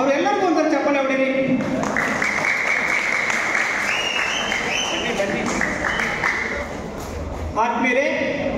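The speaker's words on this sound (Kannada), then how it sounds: "ಅವರೆಲ್ಲರಿಗೂ ಒಂಥರ ಚಪ್ಪಾಳೆ ಹೊಡೀರಿ" An audience claps for the event organisers at a public gathering, a sustained burst of dense applause that fades out, with a voice speaking before and after it.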